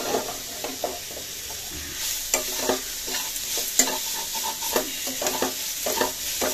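Beetroot frying in a pan, a continuous close sizzle broken by repeated stirring scrapes and utensil knocks at an irregular rhythm, with no talking.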